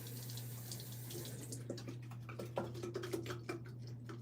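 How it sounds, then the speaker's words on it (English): A running tap pours water into a conditioner bottle in a bathroom, making a steady close hiss with a low hum beneath and an irregular trickling, gurgling patter as the bottle fills. "I'm literally putting water in it to get more out"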